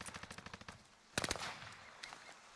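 Automatic weapon fire in the video game Warzone, rapid bursts of rattling shots at the start, then a louder close burst mid-clip, with faint shots trailing after over a background hiss.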